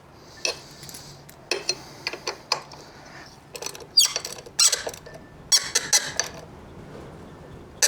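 Torque wrench tightening the bolts on genuine-accessory foot pegs of a 2025 Honda X-ADV, close up: a run of sharp mechanical clicks and ratcheting ticks in irregular bursts with brief pauses, no talking.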